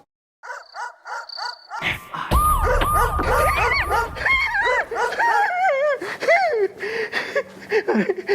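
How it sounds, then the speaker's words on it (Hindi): Several dogs barking in quick, overlapping bursts while chasing someone, close and loud, mixed with yelps and a rooster-like crowing cry amid a busy comic scene. "अरे यार ये कुत्ते मेरे पीछे क्यों पड़ते हैं?"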